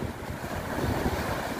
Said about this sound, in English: Even with the wind picking up